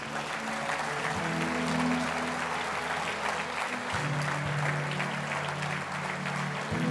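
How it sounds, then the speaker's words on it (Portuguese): A church congregation claps loudly and continuously, a dense, even wave of applause throughout, with a low sustained musical tone underneath. "Dê ao Senhor um forte aplauso"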